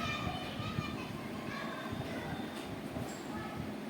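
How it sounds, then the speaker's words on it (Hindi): A train standing at a railway station, with a steady rumbling hum and broad rail noise held at an even level throughout, faint higher tones and distant voices mixed in. "ट्रेन आकर चली गई, अभी नहीं गई है, ट्रेन बंद है"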